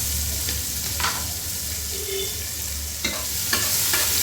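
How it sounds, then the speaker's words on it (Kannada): Long-sliced onion fries with whole spices and garam masala in a pan, giving a continuous hissing sizzle, with several short scraping strokes of stirring close by. "ಚೆನ್ನಾಗಿ ಫ್ರೈ ಮಾಡ್ಕೊಳ್ಳೋಣ. ಈರುಳ್ಳಿ ಗೋಲ್ಡನ್ ಬ್ರೌನ್ ಕಲರ್ ಬರಬೇಕು, ಅಲ್ಲಿ ತನಕ ಫ್ರೈ ಮಾಡ್ಕೊಳ್ಳೋಣ."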